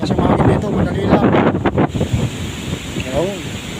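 Strong wind near the sea buffets the microphone in a loud, continuous rush, with someone talking briefly over it.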